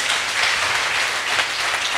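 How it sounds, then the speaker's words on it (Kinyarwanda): A crowd at a choir competition applauds, steady dense clapping at an even level throughout, with no voices on top. "Arakoze, mukomera amashyi menshi cyane."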